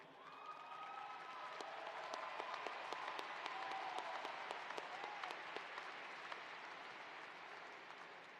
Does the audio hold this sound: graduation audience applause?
yes